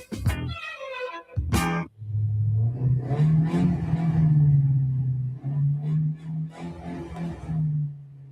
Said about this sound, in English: Boy, that sounds like a race car.